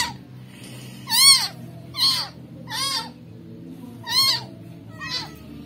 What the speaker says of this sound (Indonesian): Dapat kucing